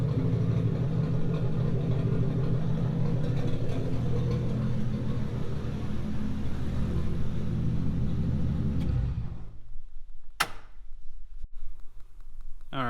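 A Datsun 280Z engine idles with a steady, close rumble, its alternator not charging, then cuts off abruptly near the end, leaving near silence broken by a single sharp click.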